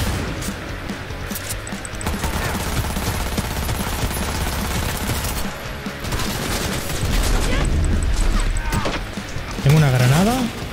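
Rapid bursts of automatic gunfire in Cyberpunk 2077 keep up a dense, loud stream of shots throughout, with a person talking over parts of it.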